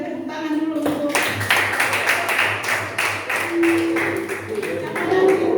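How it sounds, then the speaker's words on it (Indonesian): Classroom audience clapping for a student, a burst of several seconds of scattered hand claps with some voices and chatter mixed in. "kita berikan tepuk tangan dulu"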